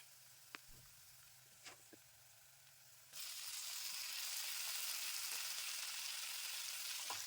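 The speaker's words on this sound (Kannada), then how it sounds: "ಟೊಮೊಟೊ ಸಾಫ್ಟ್ ಆಗೋ ತನಕ ಫ್ರೈ ಮಾಡ್ಕೊಳ್ಬೇಕು." Chopped tomatoes added to hot oil in a pan with fried onions for an avarekalu palya, starting with a few soft clicks and then bursting into a loud, steady sizzle that continues to the end.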